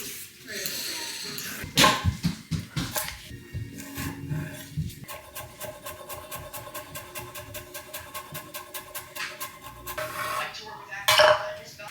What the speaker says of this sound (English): just peeling the carrots